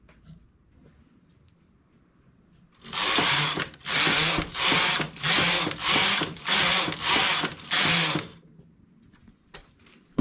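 A hand-operated knitting machine carriage sliding back and forth across rows of baby-hat knitting, eight loud rasping whooshes in steady rhythm with brief pauses, alone and close, bracketed by quiet stretches.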